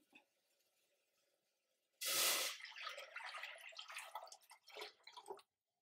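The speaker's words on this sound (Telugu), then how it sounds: "ఇప్పుడు వాటర్ పోసుకుందాం మనం." After a quiet start with faint drips, water gushes loudly into a pot of cooking rice, splashing and gurgling in bursts before stopping.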